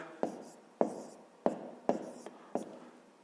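A pen writes numbers on paper for a column addition sum, five or six sharp taps and short strokes at an even pace, close and clear, with no talking.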